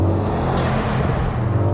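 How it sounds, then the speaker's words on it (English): A 2021 Mercedes-AMG GLE 63 S SUV under full-throttle acceleration, a loud continuous low engine roar with a steady rumble heard from inside the cabin. "More needless full throttle acceleration."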